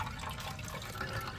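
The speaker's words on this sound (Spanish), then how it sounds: "Ya le puedo echar un poquito de agua." Water is poured into thick corn atole, a continuous splashing, gurgling stream of liquid heard close and steady, with no talking.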